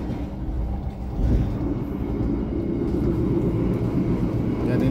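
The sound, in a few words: Pandalungan passenger train passing Wonokromo junction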